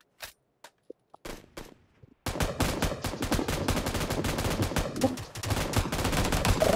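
Machine gun fire in a video game starts with a few scattered single shots, then breaks into a loud, sustained automatic burst of rapid rounds that runs continuously to the end.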